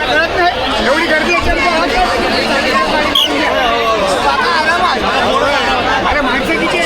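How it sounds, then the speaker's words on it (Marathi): Dense chatter from a large crowd at the Girgaon Shobhayatra procession, many overlapping voices forming a continuous, lively babble with a brief sharp sound near the middle. "एवढी गर्दी"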